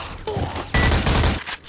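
A chain gun fires in a video game, a short loud burst of rapid shots after a brief lighter rattle, then cut off.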